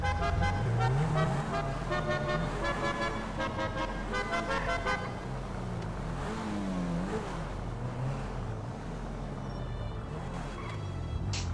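Car engine revving and accelerating in the video game GTA5, a steady loud exhaust drone with rising and falling pitch throughout, plus a brief horn-like toot near the start.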